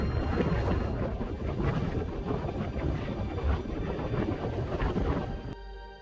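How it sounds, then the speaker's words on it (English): Steady roaring wind buffets the microphone on a Continental Divide hiking trail, loud and continuous with gusting surges, then drops off abruptly near the end. "It's a little windy today."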